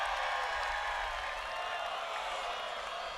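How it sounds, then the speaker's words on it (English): Spectators at a women's college Ultimate frisbee final cheer a catch, producing a continuous, fairly faint roar of applause and voices that stays level before easing slightly. "The crowd loves the catch made by the observer."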